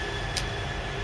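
A double-headed train in England, a steady loud rumble close by with a brief hiss partway through.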